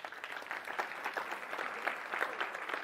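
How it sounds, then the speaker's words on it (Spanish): Audience applause at an ethics and technology debate, a steady close wash of many hands clapping with faint overlapping voices underneath. "aplauso para el sí"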